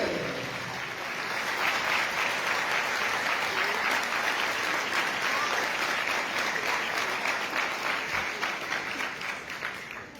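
A church congregation at a Christmas Eve vigil Mass applauds steadily for about ten seconds, a dense, even wash of clapping that fades slightly at the end.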